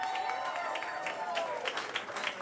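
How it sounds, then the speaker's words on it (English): A comedy show audience applauds at the end of a competition night, a dense, fairly distant patter of clapping that carries on steadily for a couple of seconds. "we're going to go round of applause just for the 2 of them"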